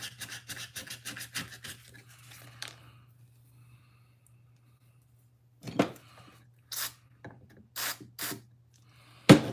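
Penetrating oil is sprayed onto the rusty tang of an old spade blade, in several short, sharp hissing bursts in the latter half, following faint scraping and a long quiet gap.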